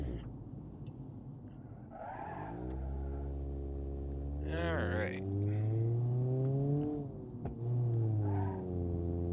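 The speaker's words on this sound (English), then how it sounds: "Just hear that little four-cylinder buzzing away." A small four-cylinder Bruckell LeGran SE Convertible engine buzzes and revs steadily in BeamNG.drive, pitch rising and falling with acceleration, while a voice speaks briefly over it.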